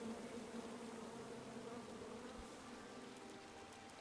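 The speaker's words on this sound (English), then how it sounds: "Bees. Come at me, bees!" A swarm of angry bees buzzes in King's Quest (2015), a dense, steady droning hum that fills the scene alone without any talk.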